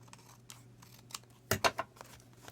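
Scissors snip through card stock while making a craft card, a cluster of two or three sharp close cuts near the middle, with faint rustling before and after and no talk.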